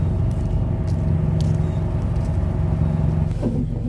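A Chevy Cruze engine idles steadily with a low, continuous rumble and hum, close by, with no voices.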